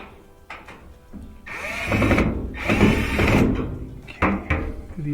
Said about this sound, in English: Just tighten that up with the screwdriver.